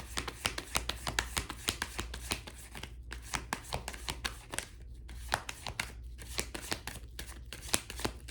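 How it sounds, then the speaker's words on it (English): Rapid riffling bursts of cards being shuffled repeatedly, close up, in quick crisp rhythmic sweeps with short pauses between rounds. "I shuffled."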